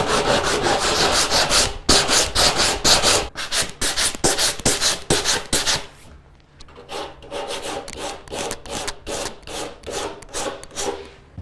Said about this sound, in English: I'm going to sand it. I'm going to use the same block as I did last time with my 80 grit and a nice hard block.